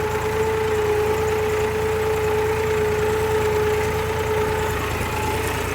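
A tractor engine runs steadily while levelling a field in two-wheel drive, its tyres slipping under load: a continuous, loud, close mechanical drone with a sustained tonal whine and no pauses.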